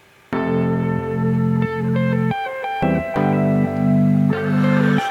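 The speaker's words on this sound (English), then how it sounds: "it started out with this guitar loop and these pads and the vocal effects." A looping guitar figure plays over sustained synth pads and processed vocal effects in an in-progress song arrangement, steady chords with stepped melodic notes on top, loud and with no speech.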